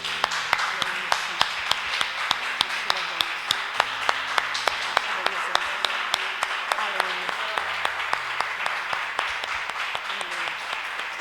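A church congregation claps steadily during an evangelical worship service, rhythmic hand claps repeating evenly throughout at a close, moderate level.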